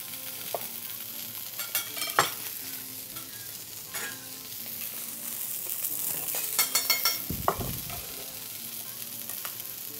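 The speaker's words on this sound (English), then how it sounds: "We take the onion on the grill and we make a caramel onions." Onions caramelize on a barbecue grill, crackling and sizzling close by, with scattered spatula scrapes and taps and a brief burst of louder clatter near the end.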